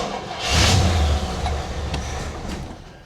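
A 1979 Cadillac DeVille engine catching on a fresh carburetor swap: a loud, close burst of low engine rumble that rises quickly, holds a rough idle for a couple of seconds, then sags and fades as if dying out.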